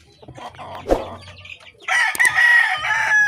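Young one-month-old chickens cluck and squawk close by, with a sharp knock partway through, then a loud sustained burst of overlapping fowl calls.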